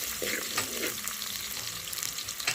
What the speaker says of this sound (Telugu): ఆయిల్ అయితే హీట్ ఎక్కింది కదా ముందు అయితే ఆనియన్స్ ఆనియన్ వేసుకొని ఫ్రై చేసుకున్నాను